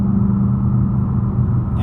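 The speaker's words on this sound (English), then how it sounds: "RPM in fifth gear, we're doing about 80 miles an hour." A 2019 Ford Mustang Bullitt cruises in fifth gear at about 80 mph in track mode, its engine giving a steady, loud low rumble with road noise and no voices.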